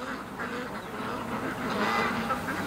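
Ducks by a creek keep up a continuous chorus of overlapping quacks, moderately close and busy throughout, with no voices over them.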